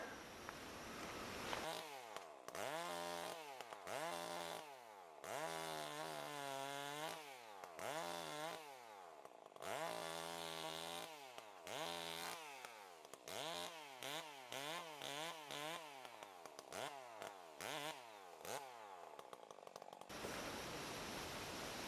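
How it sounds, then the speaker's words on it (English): A chainsaw cutting into a cracked tree at an off-grid log cabin, the engine revving loudly in repeated bursts as the chain bites and eases, running almost continuously for about eighteen seconds before cutting off. "I'm just going to take the saw and just cut in there just a little bit, being very careful."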